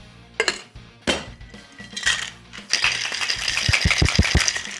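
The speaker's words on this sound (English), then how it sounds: "So ice in the glass." Ice cubes are dropped into a margarita glass, with sharp clinks and clatter at first, then a denser rattle of cubes knocking against glass, close and fairly loud with no talking.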